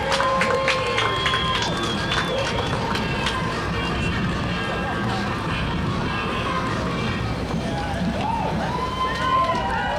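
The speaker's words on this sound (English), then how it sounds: "A big cheer for Lake Park School." Crowd cheering and calling out from the curbside as Lake Park School marches in the Addison-Medinah Shriners parade, a steady outdoor din of mixed voices and shouts over a full ten seconds.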